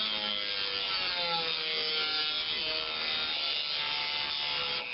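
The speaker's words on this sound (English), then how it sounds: "keep working on this chamfer until I can get all the way, get all this sanded up real good in here." A rotary tool sands a chamfer on a maple woodturning piece, making a continuous high-pitched whine with a gritty abrasive rubbing, close and steady throughout.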